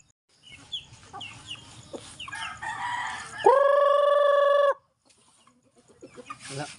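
Rhode Island crossbreed chickens cluck softly in scattered bursts, then a rooster crows loudly and long nearby before the quiet clucking resumes.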